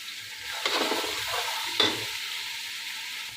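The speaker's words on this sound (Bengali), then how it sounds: "এখন আমি পেঁয়াজের সাথে আদা রসুন বাটাটাকে একটু ভালো করে ভেজে নেব।" Sliced onion and ginger-garlic paste fry in hot oil for a Bengali broken-rice dish, a soft steady sizzle broken by two louder scrapes of a spoon stirring the pan, close up with no talk.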